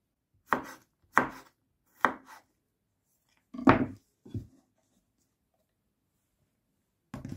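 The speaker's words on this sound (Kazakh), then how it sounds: "Осындай қылып турап аламыз қиярымыздың бәрін." Cucumbers chopped with a knife on a board: five sharp, separate cuts in an uneven rhythm, followed by a pause and one more chop, close and clean with no talking.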